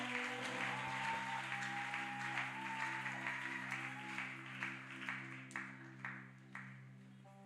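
A congregation applauds at a pastor's 50th-anniversary church celebration, a soft, steady patter of many hands held under sustained musical tones, with a few sharper claps standing out toward the end.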